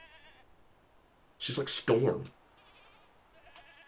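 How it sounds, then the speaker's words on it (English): Goats in the video game Mundaun let out a short pair of close, loud bleats, with a voice speaking briefly nearby. "Little girl, what nice goats you have."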